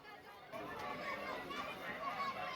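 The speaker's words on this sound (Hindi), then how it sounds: "लेकिन अभी मेला है, बसंत पंचमी है, इस वजह से इतनी भीड़ है यहाँ" Dense crowd chatter at a busy Basant Panchami temple fair, many overlapping voices forming a steady, moderately loud murmur throughout.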